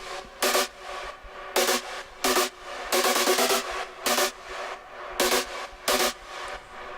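Bright trance synth chords hit in short rhythmic bursts, with a sidechained reverb tail swelling up in the gaps between hits and ducking away each time a chord lands.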